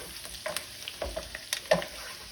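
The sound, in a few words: mushrooms and garlic frying in a pan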